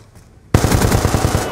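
A sudden burst of rapid automatic gunfire, loud and close, cuts in after near silence and rattles on in a fast even rhythm to the end.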